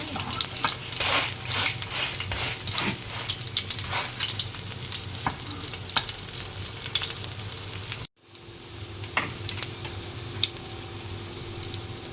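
A homemade hamburg steak fries in an oiled pan, giving off a steady, close, crackly sizzle with scattered spits and pops that briefly cuts out before resuming.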